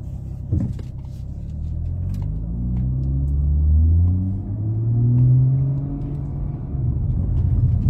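A BMW M340i M Performance Edition with Alpine accelerating in Sport Plus mode, its exhaust roaring as engine tones sweep upward through gears in a steady, close, loud rumble with no talk.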